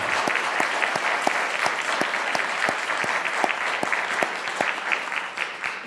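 An audience applauds at a seminary and divinity school signing ceremony, a sustained, even round of clapping with crisp individual claps close by, continuing without a break.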